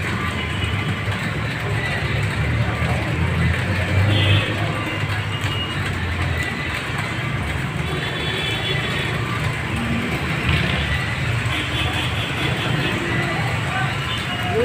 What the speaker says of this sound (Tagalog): Traffic po talaga o.